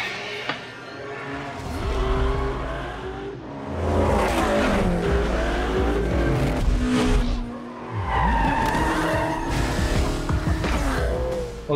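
Tires squeal and skid as a car is thrown sideways with the e-brake in the racing game Need for Speed, with engine revving, repeated loud skids through the stretch and faint speech at times.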